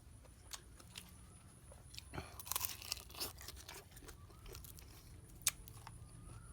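Crisp, crunchy chewing of fried salted fish, close but quiet, with a cluster of crackling bites and a few scattered crunches in a hushed background.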